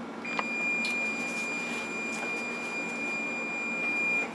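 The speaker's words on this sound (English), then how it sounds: "There's the timer." An oven timer goes off while French bread bakes, a steady high electronic beep tone sounding continuously for several seconds over faint room noise.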